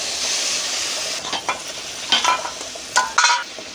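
Onion, garlic, chili, mustard seeds and cumin frying in oil in a pan for a drumstick-leaf dish, a steady close sizzle with a few stirring scrapes, no talk.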